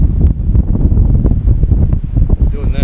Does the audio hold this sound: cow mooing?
no